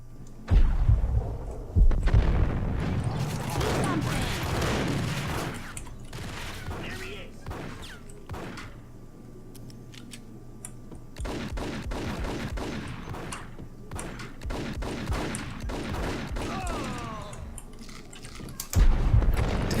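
Dense, sustained bursts of gunfire and impacts in the video game Max Payne, loud and continuous with thuds and rattling shots, layered under voices and game sound.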